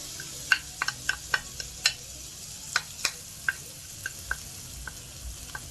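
Black pepper sizzling in hot oil in a wok, with a quiet steady fry broken by a dozen or so sharp crackling pops spaced irregularly, close and fairly soft, no talk.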